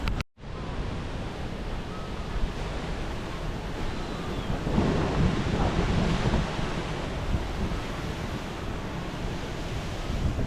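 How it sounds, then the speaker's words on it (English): Surf rolls in and crashes onto limestone in a continuous roar, with wind buffeting the microphone throughout, on the coast at Arecibo, Puerto Rico. "Get a little rush from the wave crashing onto the limestone"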